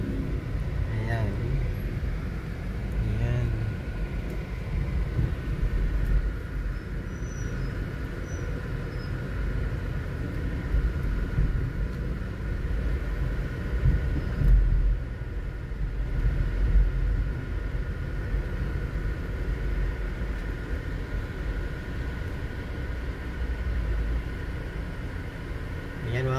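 Road traffic crawls along Shaw Boulevard in Mandaluyong past roadwork, a steady dense rumble of engines and tyres that swells and eases throughout, close and continuous with no clear pauses.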